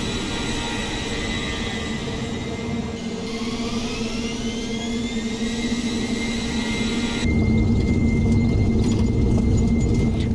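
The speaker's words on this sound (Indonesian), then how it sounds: "pesawat akhirnya diperbolehkan lepas landas" A Sriwijaya Air jet engine roars with a rising whine that builds in pitch, then the noise surges louder as takeoff thrust kicks in.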